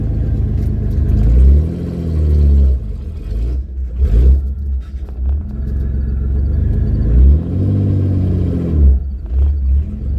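An S-10 project truck with a manual clutch rumbles steadily as it drives, its deep engine note rising and falling through a couple of revs, loud and close throughout with no talking.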